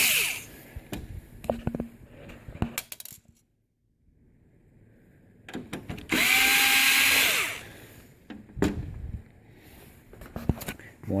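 A power drill backs screws out of a Ricoh MPC color copier during a touch screen replacement, with short clicks and handling noises, a pause, then a loud two-second whir followed by more tapping.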